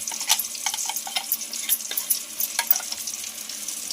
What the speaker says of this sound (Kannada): ಎಲ್ಲವನ್ನು ಕೂಡ ಹಾಕ್ಕೊಂಡು ಕೈ ಬಿಡ್ದಂಗೆ ತಿರುಗಿಸ್ಕೋಬೇಕು